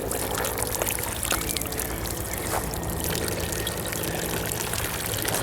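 Water flowing and splashing steadily from a drinking fountain in Italy, close by, with a continuous trickling pour and faint background noise.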